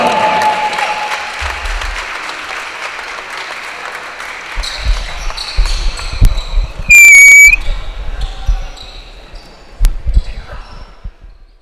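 At a women's basketball game, a crowd in an arena gives a round of applause that fades into scattered claps and crowd murmur, with ball bounces and a brief whistle-like squeal partway through.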